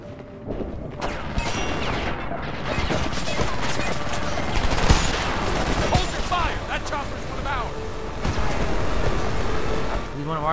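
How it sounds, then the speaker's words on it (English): Gunfire in the Homefront video game: sustained rapid automatic bursts and single shots crack loudly over a rumbling battle bed for about ten seconds, with louder blasts near the middle. "Why is he shooting at us?"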